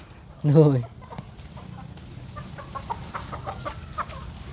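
Chickens cluck at a farmyard with ducks nearby, one loud squawking call at the start followed by softer scattered clucks, with people talking in the background.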